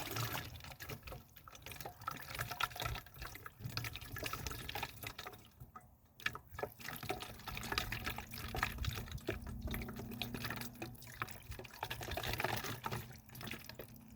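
Liquid poured from a container into a 3 liter bottle, here 6% (20 volume) hydrogen peroxide, making a steady, close, continuous splashing and trickling pour that runs for the whole stretch with no talk.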